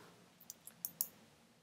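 A computer mouse gives a handful of quick, crisp clicks close to the mic, faint and sharp against a quiet room hum.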